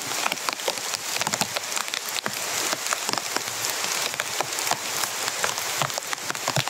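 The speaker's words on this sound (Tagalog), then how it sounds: "Malakas yung ulan." Heavy rain pours down steadily onto surfaces outdoors, a dense, continuous hiss dotted with sharper drip and splash impacts throughout, with no voices.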